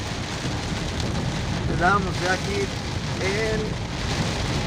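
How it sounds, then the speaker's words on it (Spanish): Heavy rain pouring down in Huajuapan, Oaxaca, a steady dense hiss that fills the whole stretch while someone speaks briefly over it. "Finalmente nos alcanzó la lluvia, señores y señores, nos alcanzó la lluvia."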